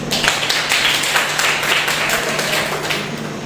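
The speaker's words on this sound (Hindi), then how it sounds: "तालियां बजा सकते" A church congregation claps in applause during a Sunday service, a dense steady patter of many hands filling the room at even loudness throughout.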